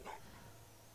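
A dog in Fallout 4 gives a short, fairly faint bark at the very start, followed by a low steady background hum.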